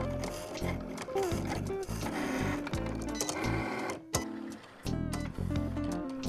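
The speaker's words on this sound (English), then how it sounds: "It cut pretty accurate and really fast, which surprised me because sometimes my Cricut does not like to cut that good." A Cricut cutting machine cuts out stickers with a steady whirring motor hum and rapid rhythmic mechanical buzzing and clicking. It sounds close and continuous, with brief dips as the carriage changes direction.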